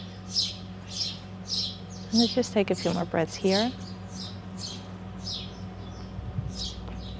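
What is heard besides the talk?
birds chirping outdoors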